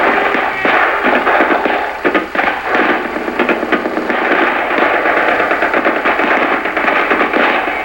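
Sustained small-arms and machine gun fire from an Army rifle squad during a field assault drill, a dense continuous crackle of rapid overlapping shots at steady loudness throughout.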